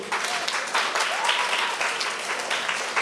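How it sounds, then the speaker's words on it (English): Audience applause at a school craft display and prize-giving ceremony, a dense, fairly loud wash of clapping lasting about three seconds with no speech over it. "Give yourselves a round of applause."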